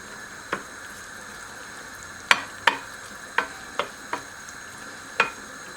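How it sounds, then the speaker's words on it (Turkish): Onions fry quietly in olive oil with a soft, steady hiss, broken by scattered sharp pops and crackles. "Burada da soğanımızı kavuruyoruz böyle."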